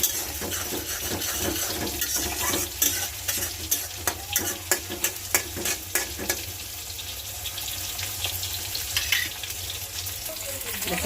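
Fish sizzles steadily as it fries in a pan for a Ramadan sehri meal, with onions frying nearby; scraping and clinking stir strokes punctuate the continuous close crackle, with no talk.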